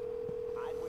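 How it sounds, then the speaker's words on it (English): A steady phone dial tone hums through the whole moment in the Watch Dogs video game, with a faint voice murmuring underneath. "Well, I gotta make a phone call."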